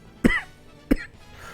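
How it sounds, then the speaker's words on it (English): Two sharp, fairly loud coughs from a person, spaced about two-thirds of a second apart, with quiet between them and no talk. "I'm still gonna have a cough for a while"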